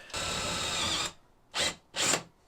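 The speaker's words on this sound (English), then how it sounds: "I'm going to be drilling straight up." A power drill drilling straight up into a ceiling whirs in one long burst of about a second, then two short bursts follow, loud and close.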